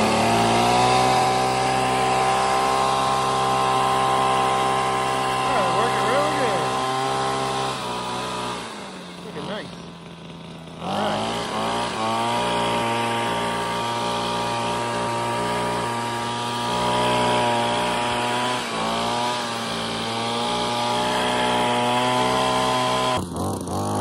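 A Wild Badger Power axial blower attachment running on a small gas engine and blowing leaves, giving a loud close droning whine with strong harmonic tones that dips briefly midway and then resumes at full speed.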